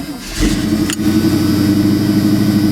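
A truck engine on a cold winter day cranks briefly and catches, settling into a steady, loud mid-pitched running rumble close by, with no talking.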